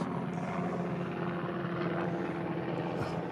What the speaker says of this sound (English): You got to listen to helicopters.